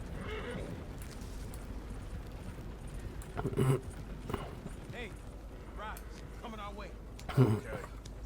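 Horse hooves clip-clop steadily in Red Dead Redemption 2 beside a wagon loaded with TNT, a constant rhythmic trot over low rolling noise, broken twice by louder snorts or whinnies, with faint voices in the background.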